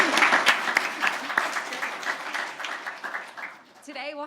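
Audience applause at a pitch competition finale, a dense steady wash of many hands clapping that fades toward the end as a voice begins speaking.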